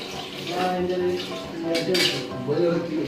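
Cooked fish biryani rice is shifted from the pot into another vessel in a small room kitchen, with a run of close metal clinks and utensil scrapes as a voice talks over it.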